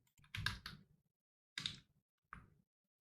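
Typing on a computer keyboard, three short close clusters of key clicks separated by pauses in an otherwise quiet room.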